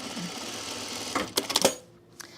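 A sewing machine tacks a seam on a jumpsuit, a soft steady whir followed by a brief burst of quick clattering stitches, then a faint click as it stops.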